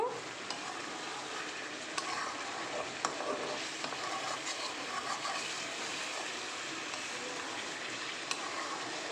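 Soft scraping and stirring of biryani with fried potatoes in a pot over a constant low sizzle, with a few faint taps of a utensil against the metal.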